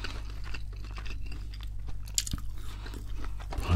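Close, crisp crunching and chewing of McDonald's food right at the microphones, with wet, irregular bites in quiet surroundings.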